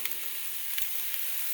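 Canned green peppers and onions, juice and all, pouring into a softening one-pot budget meal, giving a steady close sizzle with faint splashy crackles throughout, no talking.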